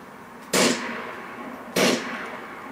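Two loud, sharp gunshots in the game GTA IV, spaced over a second apart, each leaving a short ringing decay, with no talk.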